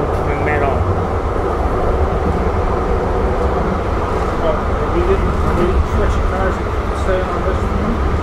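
Inside a moving Chicago Transit Siemens U2 rail car, Blue Line: a steady, loud rumbling drone of wheels and motors with faint rattles, continuous throughout.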